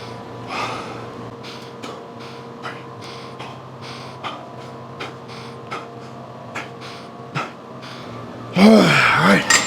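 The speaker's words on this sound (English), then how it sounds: "Now I'm gonna breathe for 10." Heavy panting breaths between sets of a chest and back gym workout, repeated short puffs in a steady rhythm close to the mic over a low mechanical hum, ending in a louder burst of movement.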